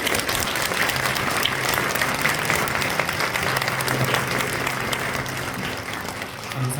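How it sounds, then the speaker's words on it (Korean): A church congregation at an anniversary ordination service applauds together, with steady dense clapping throughout that fades slightly near the end. "먼저 이들을 박수로 축복하도록 하겠습니다."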